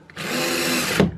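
A power drill drives a screw into a drywall patch over a doorknob hole, one short steady whir of about a second ending in a low thump as the screw seats, close and loud.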